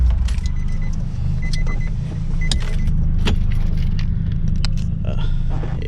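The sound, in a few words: car being turned off, keys jangling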